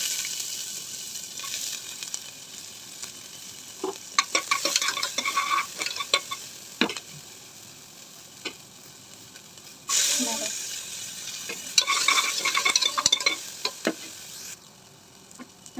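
Onions frying in ghee with cumin, garlic and curry leaves in a pan, a steady soft sizzle broken by bursts of scraping as a spoon stirs them, close up and moderately loud.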